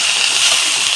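Cabbage and tomato tipped into a hot pan holding fried rohu fish head, giving a steady, close, bright sizzling hiss for the whole moment.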